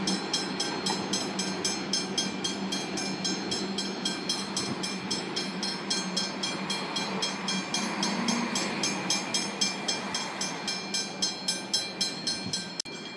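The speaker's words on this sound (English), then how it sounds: "We have another EDI refurbished Comengs arriving onto platform 3 at Essendon." An EDI refurbished Comeng suburban train rolls into platform 3 at Essendon station in Melbourne, a steady loud rumble with rhythmic wheel clicks over rail joints that slow and space out as it comes to a stop.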